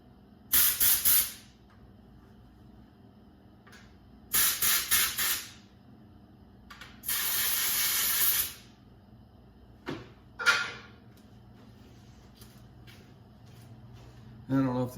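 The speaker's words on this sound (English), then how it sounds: "I'll take compressed air and blow that hole out" Short bursts of compressed air blow out the bar oil hole of a chainsaw during cleaning: three loud hissing blasts, the third held about a second and a half, then two brief puffs, over quiet background hum.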